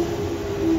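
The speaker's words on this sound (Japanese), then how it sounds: "20分ほど待ってようやく武蔵野線の電車が入線いたしました。" A crowded, delayed JR Musashino Line train pulls into a station platform, a steady humming drone with a sustained tonal whine from the motors, moderately loud and without speech.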